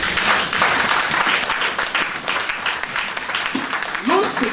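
A church congregation applauding, a dense burst of clapping that holds throughout with a preacher's voice mixed in over it.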